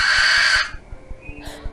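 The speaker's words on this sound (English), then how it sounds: "Barn owls have an eerie, raspy call that sounds something like this" A barn owl's eerie, raspy screech: one loud, harsh hissing scream lasting about half a second, then quiet low thumps and a faint fainter rasp.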